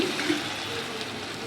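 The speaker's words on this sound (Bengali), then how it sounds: "দেখো তোমাদের সামনেই দিচ্ছি জলটা।" Water poured from a bowl into a pot of rice for peas pulao, a steady close splashing trickle that runs unbroken with no voices.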